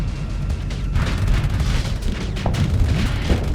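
Ship weapons in the Starsector space combat game fire continuously with accelerated ammo feeders, making a dense, loud rumble of booming shots and impacts that runs without a break.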